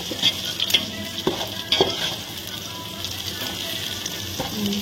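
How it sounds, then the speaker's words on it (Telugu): Onions frying and browning in a pan for biryani, with a steady sizzle and several sharp scrapes as they are stirred, close and fairly loud, with no talking. "ఎర్రగడ్డలు బాగా వేగాల, బ్రౌన్గా వేసుకోవాలి."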